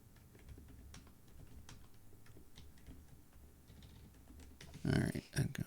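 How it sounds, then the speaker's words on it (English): Rapid, light clicking from someone typing on a computer keyboard runs steadily at low level under a faint background, ending in a louder burst of noise. "it's the person typing"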